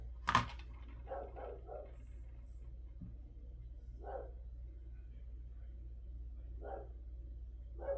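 A dog gives scattered barks, several short clusters spread across the stretch with gaps between, fairly distinct over a low steady hum in an indoor papercraft session; a sharp knock or click comes early on.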